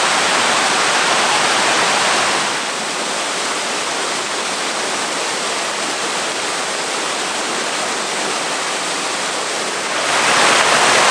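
A hidden waterfall in Swaledale, Yorkshire roars with a loud, constant rush of falling water that swells slightly near the end, with no voices.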